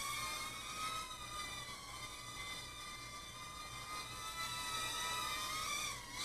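Cheerson CX-12 nano quadcopter drone in flight, a thin high-pitched whine of tiny motors holding steady and shifting slightly in pitch, faint and continuous with no talking.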